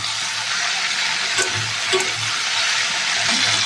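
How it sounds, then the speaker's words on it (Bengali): A pan of potatoes, okra, tomato, onion and green chili fries with a dense, even sizzle close by, with soft stirring movements for a Bengali okra-potato dish. "এবার কেটে রাখা আলু, ঢেঁড়স, টমেটো, পেঁয়াজ, কাঁচা লঙ্কা সব দিয়ে দেবো। ভালো করে নেড়ে চেড়ে একটু ভেজে নেবো।"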